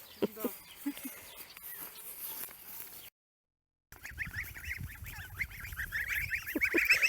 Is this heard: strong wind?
no